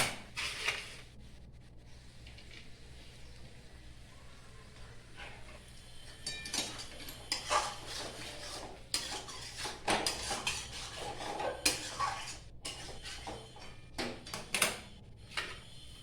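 Chopped green chillies stirred into a curry of paneer with poppy seed in a metal pan: irregular scraping and clinking of a spatula against the pan, quiet, with louder bursts of knocks in the second half.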